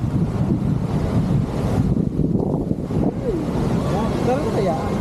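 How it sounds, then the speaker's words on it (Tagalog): Wind buffets the microphone in a steady low rumble throughout, with a voice talking faintly underneath. "Hangin pa lang yan."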